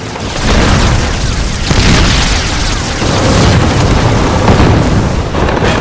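Continuous heavy booms and crackling bursts of explosions and shell bursts on a night battlefield roll together in a loud, dense barrage, with no pauses between the blasts.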